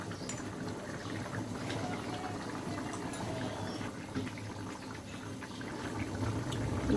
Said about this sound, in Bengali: ঝোল ফুটে উঠেছে, আর একটু আমরা জাল দিব।